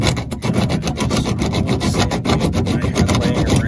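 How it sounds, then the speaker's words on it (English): Coarse 40-grit sandpaper rasps quickly back and forth across a surface being roughed up for bonding a loose window clip on a Toyota Sienna, loud, close and rhythmic strokes with no voices. "I'm gonna sand it with what looks like about 40 grit here"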